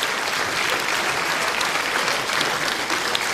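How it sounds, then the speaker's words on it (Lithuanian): Dense, steady applause from a concert audience celebrating the 40th anniversary of the folk band Dubysa, continuous and close throughout with no voices over it. "Plojimai."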